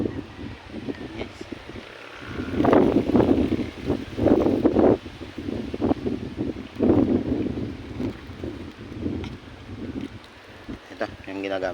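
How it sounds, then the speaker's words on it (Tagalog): Strong wind gusts across an open cucumber field, rumbling and buffeting the microphone in heavy surges with brief lulls, while a person speaks intermittently over the blustery noise. "Lakas ng hangin"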